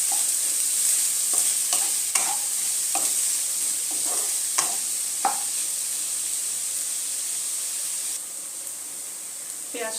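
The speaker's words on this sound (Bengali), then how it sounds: "পেঁয়াজটা একটু লাল লাল করে ভেজে নেব হালকা।" Onions fry lightly in a pan until reddish for chicken lababdar, giving a steady close sizzle and hiss broken by frequent clicks and scrapes of a spatula stirring them.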